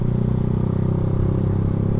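A Honda Revo FI motorcycle fitted with a cheap aftermarket racing exhaust idles with a steady, deep, throbbing bass burble, close and even for the whole stretch.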